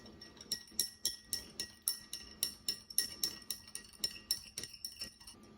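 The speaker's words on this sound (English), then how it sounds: "once I put the peas inside the mortar, I will be adding the salt. I'll mix it" Peas and salt being mixed in a mortar: a steady series of sharp, clinking strikes of the pestle, about three per second, close and fairly loud, with no talk.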